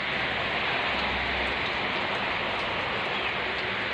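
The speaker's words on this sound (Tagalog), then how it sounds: "Malakas ang ulan. Malakas po ang ulan." Steady, dense downpour of heavy rain, a loud continuous wash of noise with no pauses and no voices.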